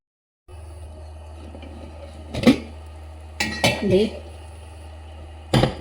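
A spoon clanks and scrapes against a pot in a few short bursts as cooked jackfruit is stirred and mashed, close and fairly quiet over a steady low hum.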